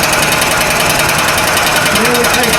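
Brake lathe taking a finishing pass across a brake rotor, a loud continuous metallic grinding buzz with a fast regular chatter, steady from start to end.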